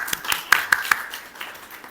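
Scattered clapping from a small audience at a children's literature awards ceremony, a handful of sharp, close claps in quick succession that thin out into fainter, sparse patter.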